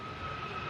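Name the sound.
airliner CF56 jet engines spooling up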